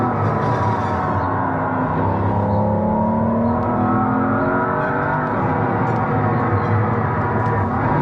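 A car at full throttle on the Nürburgring with paddle shifts, its engine roaring steadily at close range as the pitch climbs in long sweeps through the gears.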